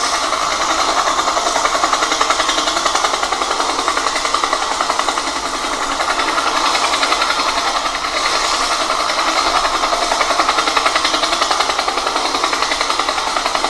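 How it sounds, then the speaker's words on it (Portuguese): A helicopter makes a steady, rapid rhythmic thudding chop of its rotor blades over a continuous engine drone, loud and sustained throughout. "Se você respondeu helicóptero, você acertou!"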